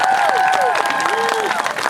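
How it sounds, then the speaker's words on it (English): A crowd at an outdoor anti-war protest rally claps and cheers continuously, with scattered whoops and whistles over dense, close applause. "Round of applause for our comrade from Black Alliance for"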